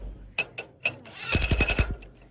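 An impact wrench on its weakest setting tightens the knives on a farm machine, first with a few sharp separate clicks and then a quick loud burst of hammering pulses.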